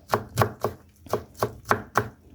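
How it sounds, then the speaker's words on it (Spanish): Garlic cloves chopped with a knife on a board for a basmati rice refrito, seven crisp, evenly spaced cuts close up with no talk. "Y lo podemos repicar para que esté un poquito más pequeño."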